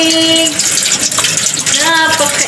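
Hot water running from a tap while moringa leaves are washed in a kitchen sink, a steady close splashing gush. Someone speaks briefly over the flow.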